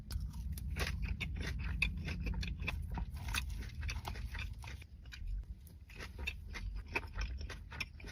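Someone chews a spicy grilled filet and kale crunch salad with roasted almonds, close to the microphone, making a steady run of crisp crunches and wet bites over several seconds with no talking.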